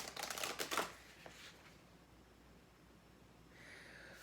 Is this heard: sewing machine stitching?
no